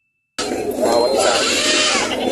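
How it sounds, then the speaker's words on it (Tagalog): Goats bleating amid a busy livestock market in Padre Garcia, Batangas, a dense crowd of animal calls and background chatter filling the scene after a brief silent start. "Ayun yung mga kambing nila."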